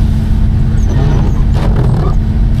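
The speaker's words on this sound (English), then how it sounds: "So we're climbing McDonald Pass right now, hauling the Toyota, going 15 miles an hour." A vehicle engine drones loud and low, labouring in first gear at about 15 mph up McDonald Pass while towing a Toyota, a steady heavy roar with no break.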